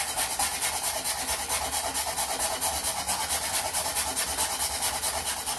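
Frozen ginger root scraped against a grater for orange chicken, a steady continuous rasping that runs close and even throughout with no pauses.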